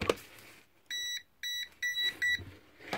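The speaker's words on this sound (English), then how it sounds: "This is actually a voltage detector. Detects live wires." A Venlab VM600M multimeter in voltage detector mode gives four short, high electronic beeps in an uneven rhythm. They are close and fairly quiet against a low background, with a faint click at the start.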